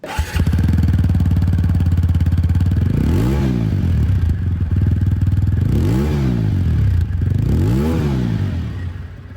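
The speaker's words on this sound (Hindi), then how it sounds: "सबसे पहले एग्जॉस्ट साउंड आप लोग सुन लीजिए।" A TVS Apache RTR 200 4V motorcycle idles loudly at its exhaust, then revs up and falls back three times in rising and falling sweeps.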